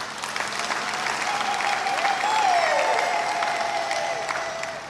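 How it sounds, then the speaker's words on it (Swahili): A church congregation breaks into sustained applause for priests celebrating their 25th and 50th jubilees of priesthood, a full, even clapping that swells slightly midway, with a faint tone sounding underneath. "Naomba tuwapongeze kwa makofi"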